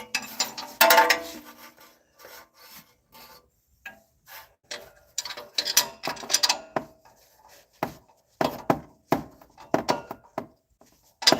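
Ratchet and wrench clicks from cinching down bolts on a 1996–2005 Chevy Astro AWD during exhaust work, heard as irregular bursts of mechanical clicking and clatter with short pauses, fairly close.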